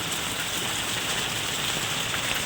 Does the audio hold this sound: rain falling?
yes